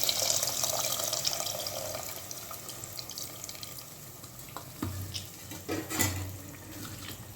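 Tamarind juice poured into a pot of fish curry and stirred, a steady liquid trickle and splash close by that fades, followed by a few louder sloshing stirs, with no talking.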